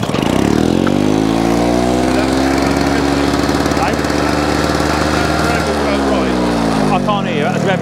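A Victa edger's small petrol engine runs loud and close, a harsh steady buzz with one shift in pitch along the way, and people talk over the noise outdoors.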